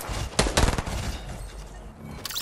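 Gunfire crackles in a Fortnite match as snipers shoot, two loud sharp bursts close together followed by a quieter rumbling tail and a faint later report, with no talking.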